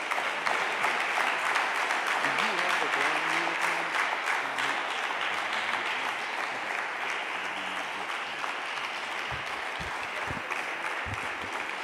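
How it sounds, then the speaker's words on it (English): Sustained crowd applause welcoming Minister Ishmael Muhammad to the stage, a thick, continuous roar of clapping from a large audience with faint tonal sounds and voices beneath, holding level for the whole stretch. "Please welcome him on with a round of applause."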